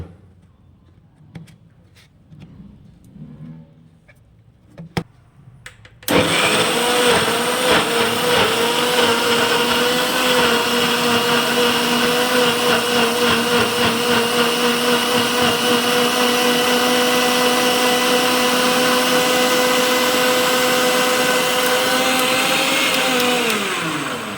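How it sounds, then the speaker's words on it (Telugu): Kitchen blender running a second pass on bottle gourd juice with added water: faint handling clatter, then the motor kicks in abruptly with a loud, steady whirring roar that holds for nearly twenty seconds before winding down. "మళ్ళీ మూత పెట్టుకొని రెండవసారి బ్లెండ్ చేసుకోవాలి."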